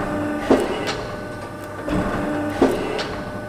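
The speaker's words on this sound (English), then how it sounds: "the machine stopped after the third cut because quantity was reached" CybTouch 8 metal shear making repeated cuts, with two sharp blade strikes over a steady machine hum, about two seconds apart.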